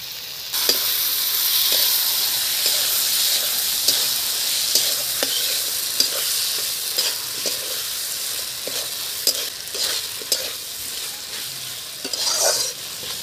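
Cumin, coriander and ginger paste spices fry in a pan of hot oil for a Bengali silver biddy fish curry, giving a steady close sizzle broken by repeated scraping stir strokes throughout.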